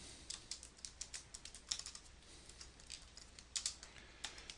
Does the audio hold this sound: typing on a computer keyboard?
yes